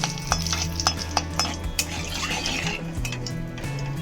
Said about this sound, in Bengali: তেল গরম হয়ে গেছে, 3টে শুকনো লঙ্কা ছিঁড়ে দিয়েছি।